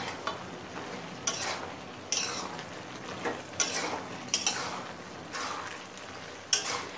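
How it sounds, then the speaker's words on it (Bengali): Water lily stems stirred in a pan over a high gas flame, soft sizzling beneath a series of sharp scraping strokes of a spatula at irregular intervals, fairly quiet and close, without speech. "এবার গ্যাসের ফ্লেমটা হাইতে করে দিয়ে শাপলাটা একটু নেড়ে নেব।"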